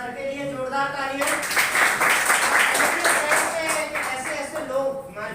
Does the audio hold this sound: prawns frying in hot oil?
no